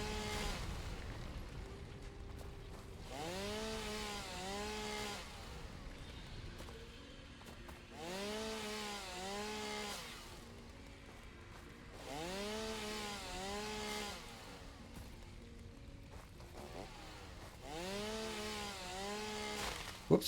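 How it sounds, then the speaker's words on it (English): A chainsaw in the video game Satisfactory revs in four distinct bursts. Each one whines up and back down in pitch, with quieter engine idling between the bursts, and no speech is heard. "I would probably not recommend jumping around with a chainsaw in hand."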